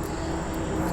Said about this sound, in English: Excuse the noise with the planes